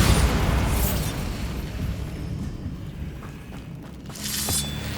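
Bombarda spell explosion in Hogwarts Legacy on PS5: a loud, broad, rumbling blast that opens the moment and slowly decays, followed by a smaller burst near the end.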